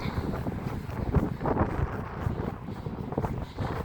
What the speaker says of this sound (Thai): ได้ยินเสียงลมไหมคะทุกคน